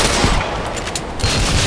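Loud, close gunfire in Ghost Recon Phantoms comes as a dense, rapid burst of overlapping shots and reverberant cracks.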